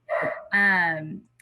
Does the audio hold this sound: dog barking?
yes